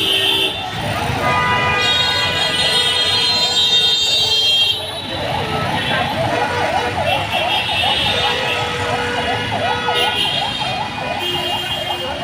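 A fire service vehicle siren wails in repeated rising and falling sweeps at the scene of a passenger bus fire on a road, loud and steady with traffic noise and a voice talking over it.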